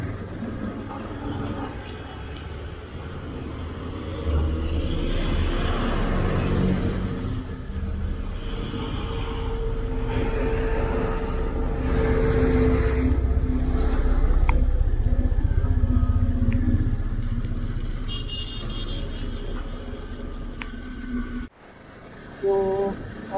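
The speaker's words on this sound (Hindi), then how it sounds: "यहाँ लग चुका है जाम" A rainy, foggy highway jam on the route toward Chandigarh from Haryana: steady low engine rumble from idling and creeping cars and motorcycles, with swelling revs and passing vehicles throughout, continuous and fairly close, no clear voices.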